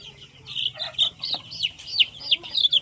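Country chickens cluck and squawk repeatedly at close range while being handled for eye-drop vaccination, a rising series of sharp agitated calls with little else heard.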